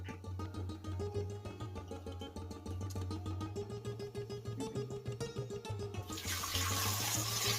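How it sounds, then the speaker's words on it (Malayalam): Water poured into a pan of curry with tomatoes and green chillies, a steady close trickling gush that turns brighter and splashier toward the end, no voices. "ആവശ്യത്തിനുള്ള വെള്ളം ഒഴിച്ചു കൊടുക്കാം."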